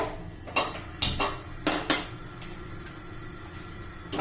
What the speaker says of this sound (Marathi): हे बघा आता मी कुकर लावून घेते